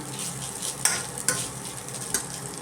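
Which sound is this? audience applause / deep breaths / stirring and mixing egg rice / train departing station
stirring and mixing egg rice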